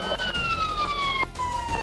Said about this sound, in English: I'm gonna turn the siren off